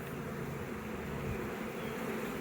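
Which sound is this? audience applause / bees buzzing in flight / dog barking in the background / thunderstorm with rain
bees buzzing in flight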